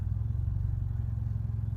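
A Nissan Juke engine idling rough with a blow-off valve fitted, a close, loud low rumble with an uneven, pulsing lope and slight clatter, steady throughout with no talking.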